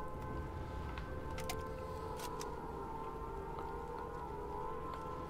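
Air raid sirens wail in the Sniper Elite 5 video game, long sustained tones droning steadily over a noisy wartime background, with sharp distant bangs cutting in now and then.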